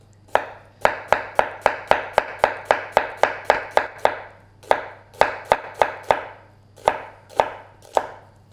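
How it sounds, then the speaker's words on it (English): Onion chopped cleaver style on a board, the knife's heel driven down by its own weight: a brisk, steady run of about two dozen sharp, close knocks with two short pauses, no voices. "what I call cleaver style, protruding knuckle, holding the onion firm, using the weight of the knife"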